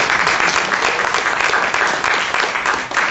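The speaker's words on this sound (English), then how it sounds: "give yourself a big round of applause." A theater audience gives a big, steady round of applause, loud and unbroken from start to finish with no voices above it.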